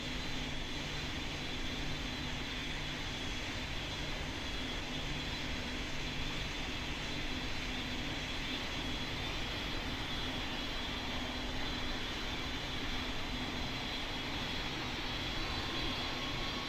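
Aircraft in the Roblox game Pilot Training Flight Simulator, a steady, unbroken engine drone with a constant high whine, fairly faint and alone throughout.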